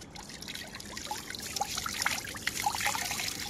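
Tap water trickles steadily while a duck is bathed on a rooftop, a soft, continuous, fairly faint flow with small splashy drips and no voices.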